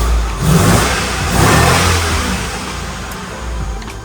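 A 2003 Land Rover Discovery 2 engine, long abandoned, roars close and loud as it is revved in rising and falling surges, then settles to a steadier run.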